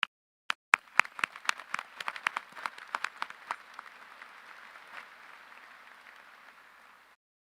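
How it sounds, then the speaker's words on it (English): Applause from a 2021 high school graduation audience at Forsyth Central, opening with a few sharp separate claps that swell into dense, steady clapping and then thin out and stop. "Can we get a round of applause to thank all that journeyed in creating life-cherishing memories"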